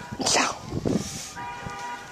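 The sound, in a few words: puppy barking in snow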